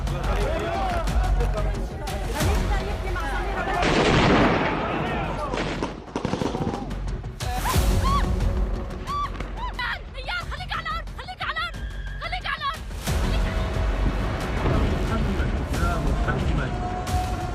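Missile strike explosions in Damascus, heavy booms and crackling blasts from a distance mixed with shouting voices and commotion nearby, loud and chaotic throughout.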